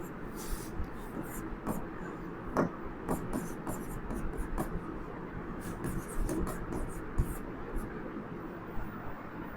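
Chalk taps and scrapes across a board as a Class 11 trigonometry solution is written out, a series of short strokes and clicks of moderate loudness under a teacher's steady talking.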